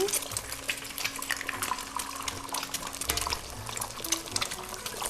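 Egg fried rice being stirred in a pan, with a steady wet scraping and sizzling churn running continuously at moderate loudness, no voices.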